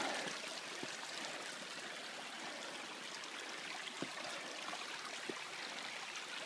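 Water trickles and babbles steadily nearby down a mountain trail, a continuous bright splashing flow with occasional small drips or footfalls.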